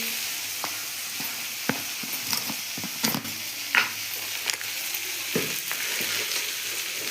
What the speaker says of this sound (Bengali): এবার এগুলো ভাজা ভাজা করবো।